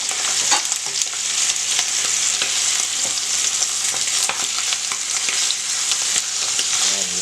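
Floured veal shank for osso buco browns in a hot pan with a steady, dense sizzle that holds close and loud throughout, dotted with small crackling pops.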